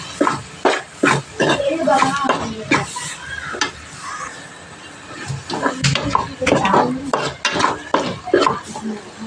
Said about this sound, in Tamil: போட்டு வதக்கிக்குவோம்